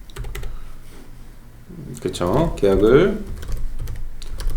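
Rapid clicking keystrokes on a computer keyboard, fairly close, with someone speaking Korean over the middle of the typing.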